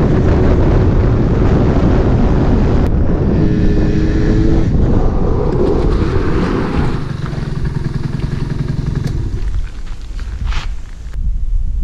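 A homemade moped engine runs loudly up close as the small machine pulls away and moves off under its own power, the motor note rising and then easing as it comes to a stop.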